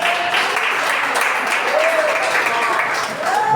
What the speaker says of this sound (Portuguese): bata nas palmas, glorifica o nome do Senhor